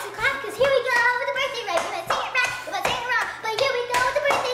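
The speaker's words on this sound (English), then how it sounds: "everybody, put your hands and clap" Children and adults clap along with a birthday song at a family birthday party, a steady run of sharp hand claps mixed with lively singing voices.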